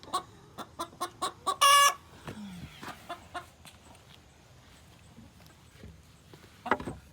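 Chickens in a morning yard cluck in a quick series of close, sharp notes, then a brief loud squawk, followed by scattered softer clucks and rustling, with a final burst near the end.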